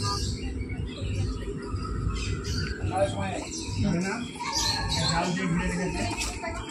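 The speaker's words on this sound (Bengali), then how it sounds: "এদের পাখির আওয়াজ, হনুমানের আওয়াজ, বাঘের আওয়াজ, পুরো গোটা চিড়িয়াখানা পুরো বঁ বঁ করছে" Birds squawk and chirp in the busy grounds of Alipore zoo in Kolkata, scattered calls mixed under steady nearby talking and general crowd noise.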